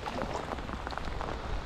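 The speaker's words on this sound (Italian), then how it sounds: "dobbiamo metterla giù perché piove troppo" Heavy rain falls on a lake, a dense, steady patter of drops on water heard close up without voices.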